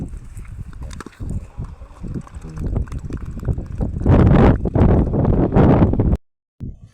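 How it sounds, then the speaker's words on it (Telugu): Strong wind gusts buffet the microphone at a village cricket tournament ground, rising to loud, rough roaring bursts midway before cutting out abruptly. "గాలి కూడా మస్తు గాలి వస్తుంది."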